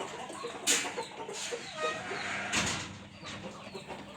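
Kuchinsky Jubilee chickens cluck and squawk in a lively, overlapping chorus close by, with sharp bursts rising above a steady background of flock noise.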